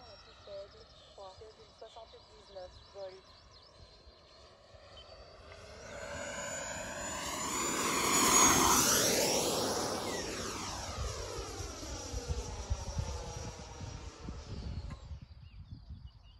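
A Freewing Venom V2 90mm RC jet makes a full-throttle pass, its faint whine building into a loud rushing roar that peaks as it flies by and then sweeps down in pitch as it recedes.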